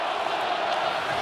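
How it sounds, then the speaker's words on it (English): At an NHL hockey game between the Toronto Maple Leafs and Edmonton Oilers, a packed arena crowd roars in a dense, continuous wash of noise, with a commentator's voice faint beneath it. "Crowd just roaring"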